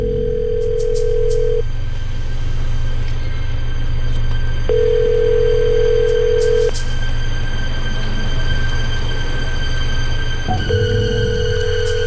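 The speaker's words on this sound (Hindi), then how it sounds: "सर, लगातार घंटी जा रही है पर कोई फोन नहीं उठा रहा" An unanswered phone call rings out as a ringback tone on the line, with three steady, fairly loud tone bursts of about two seconds each, separated by long gaps over a constant low hum, and no voices.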